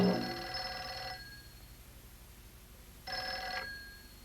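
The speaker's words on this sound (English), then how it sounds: "The phone, Alice, the phone." A telephone bell rings in two bursts, a long ring followed by a pause and then a shorter ring, loud and close with no talking.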